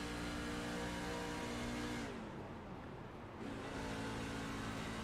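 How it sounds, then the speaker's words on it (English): Race truck engine from the SRL Truck Series iRacing league at Kansas, heard from onboard as a loud sustained drone that dips briefly as the driver lifts and clutches through a corner, then builds again. "trying to get enough out of that race truck to make it all the way around"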